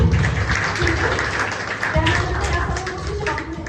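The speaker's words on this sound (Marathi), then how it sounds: "टाळ्या वाजवा आपल्यामध्ये पाहुणे आले" An audience claps to welcome guests at a free medical check-up camp, a moderate, even patter of hands with voices mixed in.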